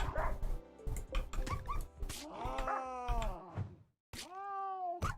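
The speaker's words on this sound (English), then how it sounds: "the cheetah is right now hunting my dog for food" A dog in the Rimworld video game, hunted by a cheetah, gives a rapid series of yips, barks and whimpering whines, ending in a long drawn-out whine after a brief pause, with no voices over it.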